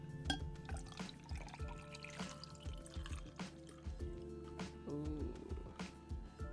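Long Island Iced Tea ingredients (vodka, rum, tequila, Cointreau, gin and homemade sour mix) splash into a glass in a steady pour. Faint drips and clinks sit over soft background music.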